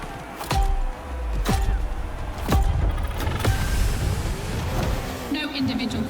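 A Ferrari racing car in the video game The Crew Motorfest, its engine roaring and shifting with sharp whooshing passes and thumps, under a voice talking over it.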